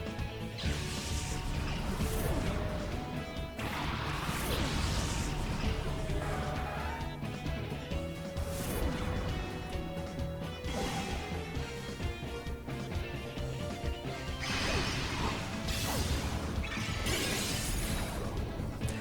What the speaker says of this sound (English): For the heck of it, let's see how well Blizzard works.